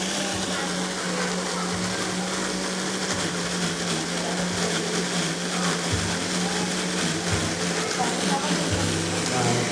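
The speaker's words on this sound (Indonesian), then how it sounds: "Kita tunggu dagingnya berputar-putar, terbincang-bincang oleh blender." Electric blender whirring steadily as it grinds milkfish meat mixed with egg, a constant loud motor drone running throughout with people talking under it.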